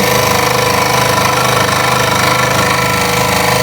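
Scroll saw cutting a wooden workpiece for a Halloween project, a loud steady mechanical buzz with rapid chattering vibration, continuous and close throughout.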